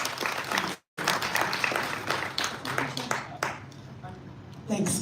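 Audience applause at a community arts event, a broad steady wash of clapping that briefly cuts out near the start, then continues at moderate level and thins toward the end.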